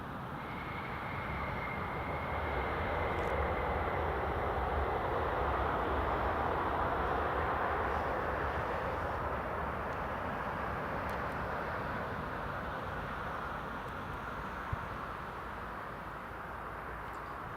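A TUI passenger jet landing on runway 25 at Newcastle Airport, a broad steady roar of engine and air noise sustained throughout at moderate distance, with no talk.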